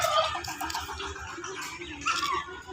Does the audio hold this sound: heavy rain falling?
no